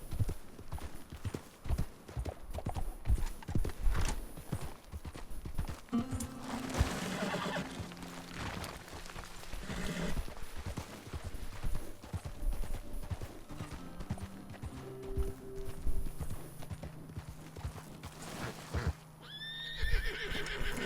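Horse hooves clip-clop steadily through Red Dead Redemption 2, with a loud whinny breaking in near the middle and more hoofbeats after, set against game music and ambience.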